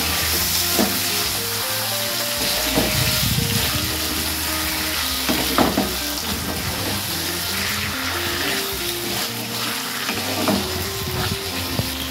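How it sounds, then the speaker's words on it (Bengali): Chicken frying in ginger garlic paste in a pan, a steady close sizzle throughout with occasional stirring clatter and spoon knocks. "এরপর আমাদের যে চিকেনটা ছিল চিকেনটা আমরা এর মধ্যে দিয়ে দেবো, দিয়ে আবার ভালো করে আমরা এটাকে কষিয়ে নেব।"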